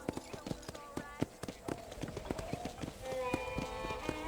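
Horse hooves clip-clop in a steady close rhythm in the Red Dead Redemption video game, with light game music and a voice speaking over it.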